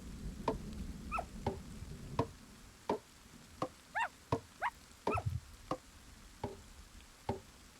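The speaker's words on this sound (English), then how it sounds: "Such a little barky pup." A small dog barking in a video game, with short sharp yips repeating about every half second to a second, mostly alone against a faint background.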